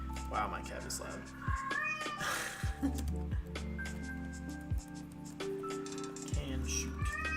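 Loud, insistent meowing from a pet cat indoors during a game dev livestream, several drawn-out cries close to the microphone over a low hum and occasional clinks.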